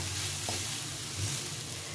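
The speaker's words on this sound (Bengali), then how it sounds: "এভাবে ভালো করে ভেজে নিতে হবে।" Leftover cooked rice is stir-fried in a pan for fried rice, giving a soft, steady sizzle at moderate distance, with a light scrape of stirring now and then.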